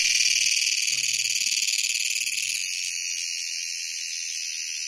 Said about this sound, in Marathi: बघा, हा आहे तो रातकिडा आहे.